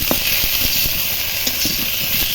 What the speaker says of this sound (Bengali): ঝিঙে নরম সবজি একটু ভেজে নিয়ে তারপরে লবণ দেবো